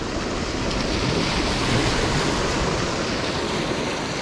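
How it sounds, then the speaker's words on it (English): Waves wash on Lake Wakatipu in winter, a steady broadband roar of surf mixed with wind buffeting the microphone. It is close, loud and unbroken, with no voices. "Few waves coming"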